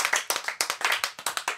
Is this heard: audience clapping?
yes